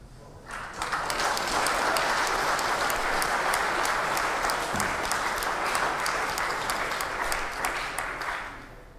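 Sustained audience applause during a heated political debate, steady dense clapping that swells in, holds loud for several seconds and tapers off at the end, with no talk over it.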